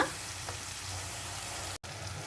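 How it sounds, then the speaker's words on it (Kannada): Chopped tomato frying in oil in a pan, a steady soft sizzle heard alone and fairly quiet, with one brief dropout near the end. "ಈ ಟೊಮ್ಯಾಟೋನು ಹಾಕಿಬಿಟ್ಟು ಚೆನ್ನಾಗಿ ಎಣ್ಣೆ ಎಲ್ಲ ಬಿಡಬೇಕು, ಅಷ್ಟು ತನಕ ನಾವು ಇದನ್ನು ಚೆನ್ನಾಗಿ ಹುರ್ಕೊಳ್ಳೋಣ."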